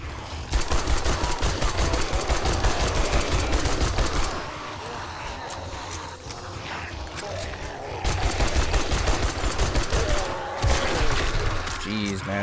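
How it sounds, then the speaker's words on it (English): Zombie cops blowing up in 7 Days to Die: loud, dense crackling bursts of explosions and gunfire-like popping run continuously, broken by one brief quieter stretch, and a voice talks over them. "these cops are just exploding left and right"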